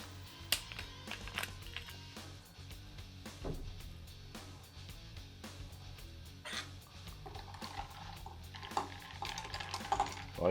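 A barspoon stirs a bourbon cocktail topped with sparkling water, giving soft repeated clinks and scrapes against glass, quiet and close, with faint background hum.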